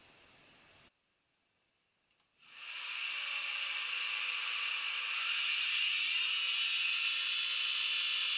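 A surface grinder flat grinding at 7,000 surface feet per minute: a sudden, loud, steady high-pitched hiss and whine that kicks in after a brief silence and holds continuously.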